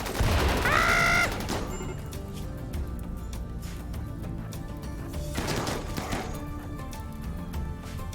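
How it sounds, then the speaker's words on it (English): Sniper gunfire in a video game: a loud burst of shots at the start, then a steady background of game ambience, with another cluster of distant shots around the middle. "They're sniping so good."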